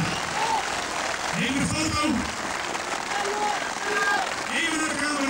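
Audience applause for strongman athletes at a 1997 Den Helder strongest-man contest, a steady wash of clapping running throughout with a voice talking over it.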